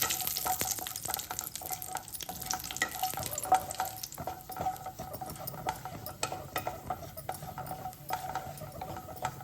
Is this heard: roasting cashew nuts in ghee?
yes